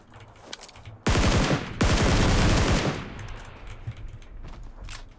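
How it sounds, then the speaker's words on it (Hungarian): A grenade explodes in the video game PUBG Lite, a loud close blast followed by a second burst that rumbles and decays over a couple of seconds, preceded by faint clicks of it bouncing. "Hogy pattad ez a gránát ide az orromba?"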